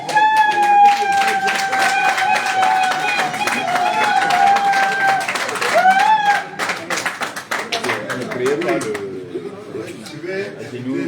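An audience claps continuously at a welcoming ceremony for newly elected party officials in Bafoussam, with steady, dense applause under a sustained musical or vocal tone that later thins into scattered claps.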